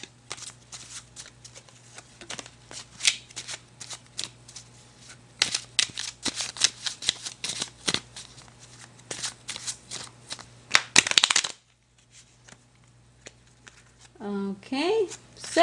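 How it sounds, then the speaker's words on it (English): Tarot cards being shuffled by hand, rapid papery riffles and slides in irregular bursts close to the microphone over a steady low hum, ending with a louder flurry and a brief squeak. "I'm actually going to give it a fresh little shuffle right now."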